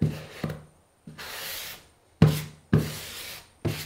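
Grout float dragged across tile joints, pressing grout into the gaps: a series of short scraping, rasping strokes, each ending sharply, close up with pauses between passes and no talk.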